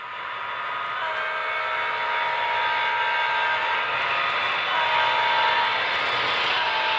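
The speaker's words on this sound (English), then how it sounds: "So the train here is starting to enter the helix, and it's going to climb up to the upper level of the layout" HO scale Athearn SD40-2 model diesel locomotive on a large DCC layout, climbing a helix: a steady whirring motor hum with faint wheel noise, continuous and moderately loud throughout.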